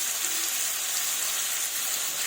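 Potato pieces hiss and sizzle in hot oil in a pan for a Bengali Rui fish curry, a steady, even frying noise with no voices.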